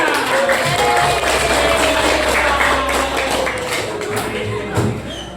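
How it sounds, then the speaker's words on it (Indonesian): Students in a classroom applauding five classmates, steady dense clapping for several seconds with murmured voices mixed in. "Oke, tepuk tangan untuk mereka berlima."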